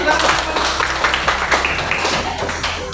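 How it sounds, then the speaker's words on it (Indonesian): A class of schoolchildren clapping together in a classroom, a dense, steady patter of many small hands that stays loud throughout, with a low hum and some voices mixed underneath. "tepuk tangan lagi"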